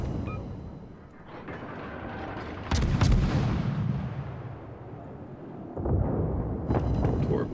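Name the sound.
destroyer guns firing in World of Warships video game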